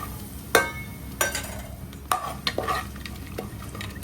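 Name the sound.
frying whole spices for pulao in a pan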